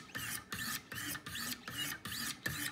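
Knife blade drawn across a Wicked Edge sharpening stone in six even, quick passes, each a soft rasping stroke separated by brief pauses, close and fairly quiet with no talking.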